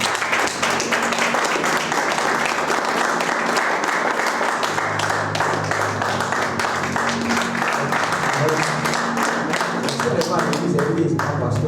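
A church congregation breaks into sustained applause and clapping, a dense steady roar of many hands. Voices and cheering mix in throughout.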